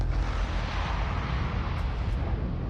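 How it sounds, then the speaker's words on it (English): Explosions rumble deep and continuously as colossal palm strikes hit a sea of flames, a loud sustained roar with heavy low boom and no voices. "The sky echoed with explosions as 4 colossal palms struck the sea of flames."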